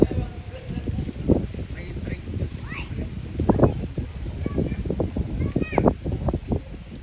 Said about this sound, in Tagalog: Oh, ang lakas ng hangin.